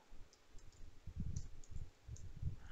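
Soft, quiet clicks of a computer keyboard as Python code for thread locks is typed, a few irregular taps close by with no talk.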